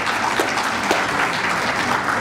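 Audience at a regional business breakfast at the Huntington Hilton applauding, a dense, sustained roar of many hands clapping at close range with no speech over it.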